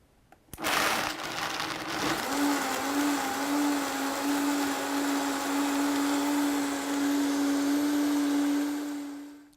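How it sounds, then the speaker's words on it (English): A blender whirs steadily as it purees almonds with water into almond milk, starting abruptly with a loud motor whine whose pitch wavers slightly as the mix churns, continuous and close for several seconds before winding down. "All right, let's blend it"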